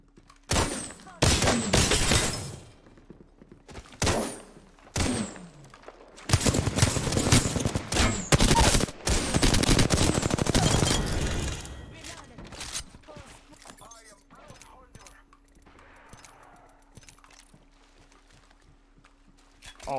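Gunfire in the Apex Legends video game: loud rapid bursts of automatic shots in clusters, then a long sustained volley, fading to scattered faint shots and game ambience, with some talk mixed in.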